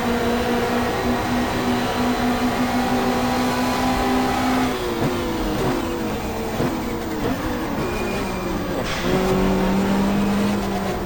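Touring race cars at Calder Park in a 1995 Australian Super Touring Championship race, engines droning loudly and shifting pitch as cars pass in succession, with gear changes and revving layered throughout, no talk heard.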